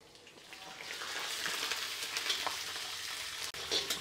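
Fenugreek seeds, chana dal and urad dal frying in a pan as a sambar tempering, giving a steady, close, hissing sizzle with no talk.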